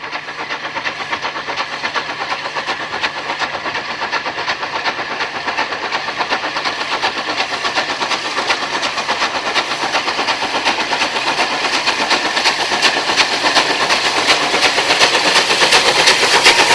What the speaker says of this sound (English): The shimmering malachite of Blackmore Vale wreathed in steam in the wilds of Sussex